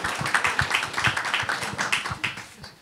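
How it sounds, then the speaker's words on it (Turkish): Applause at a panel discussion in Miami, heard as scattered, fairly light hand claps in an uneven rhythm that thin out and fade toward the end. "Alkışlayalım"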